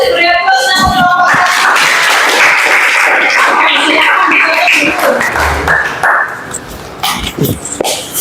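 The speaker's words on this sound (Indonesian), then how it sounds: "Beri aplaus untuk kelompok." Loud applause for a presenting student group in a classroom, dense clapping filling the stretch and tapering toward the end, with voices over it.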